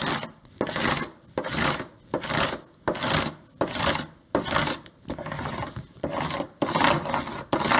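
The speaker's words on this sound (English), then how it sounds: "I'll do that just by kind of scraping back and forth" A scraper tool rasps back and forth over transfer tape on a vinyl-cut welcome sign, giving a steady rhythm of close, loud scraping strokes about twice a second, with no talking.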